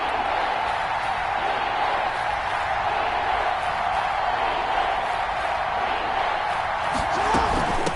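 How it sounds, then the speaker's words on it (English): Crowd noise from a PS4 American football video game at a big third down, a steady wash of stadium cheering and roar at moderate level with no clear peaks, running continuously throughout. "the crowd getting into it as we come up on a big 3rd down"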